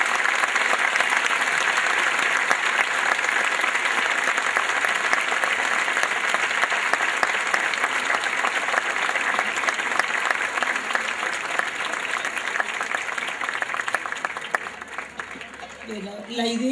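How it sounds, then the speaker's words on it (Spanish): Audience applause at a school choir performance, loud, dense and sustained clapping from a crowd, with a voice and some shuffling emerging near the end. "Un aplauso para todos ellos mientras se van acomodando."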